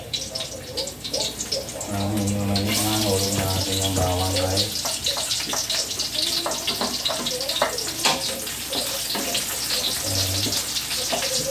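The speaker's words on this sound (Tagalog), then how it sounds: "pag mainit na yung mantika, unang-unay lagyan natin bawang saka sibuyas" Garlic and onion hit hot cooking oil in a pan, producing a loud, close, continuous sizzle and crackle that carries on throughout, with a brief tonal hum early on.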